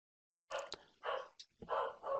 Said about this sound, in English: I have a dog barking in the background